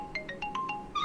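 Phone ringtone for an incoming call, a short run of quick, bright electronic tones repeating in a brisk pattern, fairly faint, with no voices.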